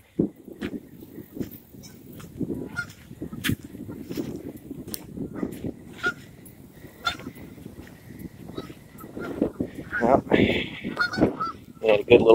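Geese honk repeatedly on a lake after Hurricane Dorian, in scattered, overlapping calls, some near and some farther off, growing busier toward the end.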